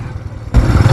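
A motorcycle engine rumbles at low idle, then jumps abruptly to a louder, rougher revving roar about halfway through.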